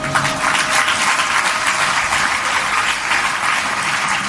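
An audience claps continuously at a devotional satsang gathering, dense steady applause from many hands without pause.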